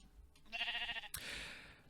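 A Minecraft sheep bleats once, a short wavering tonal call, followed by a brief hissy noise burst; faint overall, with no speech.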